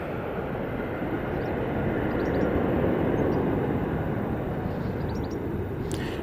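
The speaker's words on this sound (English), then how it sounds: "there goes the Aer Lingus A320 going back to lovely Dublin" An Aer Lingus Airbus A320 at Manchester Airport makes a steady, broad jet roar that swells slightly and then holds, fairly distant and alone, with no voices.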